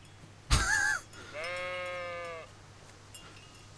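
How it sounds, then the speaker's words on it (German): Sheep in the medieval role-playing game Kingdom Come: Deliverance let out two clear bleats close by, a short wavering call followed by a longer steady one, with no talking over them. "Guck mal, Schafe."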